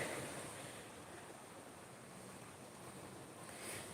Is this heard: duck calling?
no